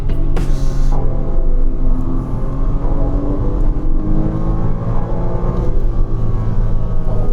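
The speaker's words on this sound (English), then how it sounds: "What an amazing sounding flat-six motor too." A 987-generation Porsche Cayman S flat-six engine drones loudly and continuously from inside the car while driving, its pitch rising and shifting steadily as it pulls, with no talking over it.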